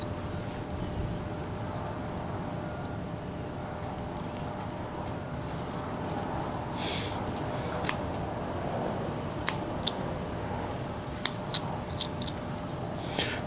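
A knife whittles a wooden dog's nose, giving faint, scattered scraping cuts and a few sharp ticks against steady background hiss, quiet and close.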